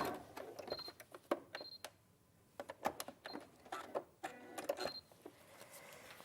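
A sewing machine stitches fabric in short whirring bursts with clicks and brief high whines, stopping and starting between quiet gaps.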